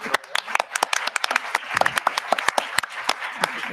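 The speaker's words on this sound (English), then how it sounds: "Applause for our counsel, I think." A moot court audience applauds counsel at the close of an argument on presidential treaty withdrawal powers. Sparse, distinct claps from a modest crowd come close and uneven, with no speech over them.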